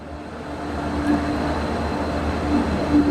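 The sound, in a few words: Chauri Chaura Express train arriving at Kanpur Central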